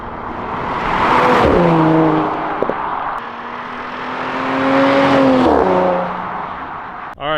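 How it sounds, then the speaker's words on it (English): An Audi with a modified exhaust revving, two loud rising engine sweeps with a sharp bark between them, close and alone without talk. "what's the opinions on the exhaust setup compared to what it was before?"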